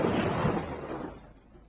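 A car crashes into a parked car at 30 miles an hour: a sudden crash with shattering glass and crunching impact, loud at first and then fading quickly into a short decaying rattle.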